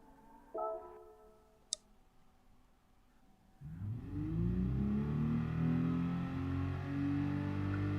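A car engine in a racing video game revs up after a few quiet seconds of faint clicks, rising into a loud, sustained, climbing whine that holds steady to the end.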